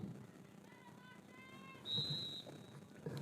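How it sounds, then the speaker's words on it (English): A referee's whistle at a high school football game gives a single sharp, loud blast of about half a second on the field. Fainter whistles and distant crowd murmur come before it. "There's the whistle."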